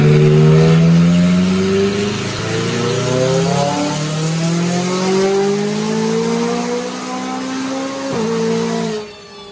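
A McLaren 570S engine revs hard on a dyno, loud and close, with rising and falling harmonic sweeps as it climbs through the gears and briefly drops before pulling again.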